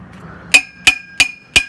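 Four sharp metallic hammer strikes on a steel house stump post set in concrete, evenly spaced and ringing briefly, close and loud.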